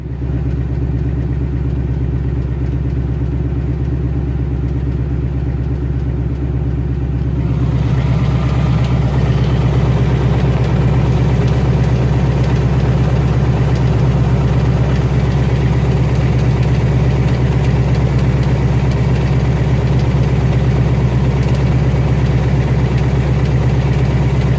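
Ford Coyote V8 idling with a steady low rumble and a fine, rapid typewriter-like ticking from the inner wheel well, continuous and close throughout, growing slightly fuller partway through.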